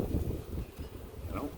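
Honey bees hum and drone steadily around an open beehive full of honey frames, a dense, close buzz heard alone.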